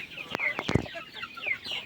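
Sonali chickens on a poultry farm cluck in short, close bursts, with a few sharper squawks among a busy flock murmur.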